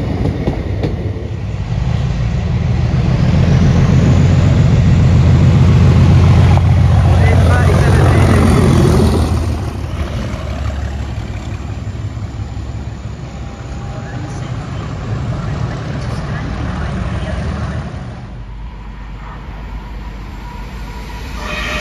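Transport for Wales class 153 diesel unit 153361 running through Crewe station, a loud low rumble swelling early then settling into a steady hum, with a voice talking over it.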